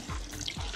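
Cold water pours steadily into a bucket set aside for a traditional Tlaxcalteca indigenous temazcal sweat bath, a brief close splashing rush with no voices.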